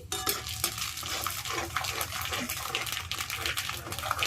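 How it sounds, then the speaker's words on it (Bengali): Cumin seeds crackle and sizzle in hot oil in a pan, a dense, steady hiss close by with small pops and light clinks from the pan throughout. "আমি জিরে ফোড়ন দিয়ে দিচ্ছি।"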